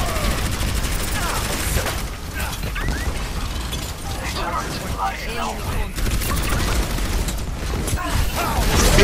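Dense, continuous gunfire and mechanical weapon clatter in an Overwatch match on the Dorado map, loud and close with rapid bursts throughout and shouted voices over it.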